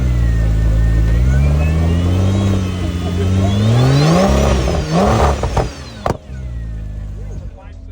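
An all-wheel-drive, twin-turbo, 610-horsepower carbon-tub all-terrain vehicle weighing about 1,300 kilos revs loud and close, its engine pitch rising and falling in several sweeps before cutting off abruptly near the end, leaving a quieter idle.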